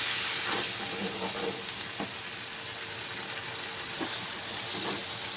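Tomato paste hits a hot pan and sizzles loudly and steadily, a dense frying hiss with occasional soft stirring scrapes.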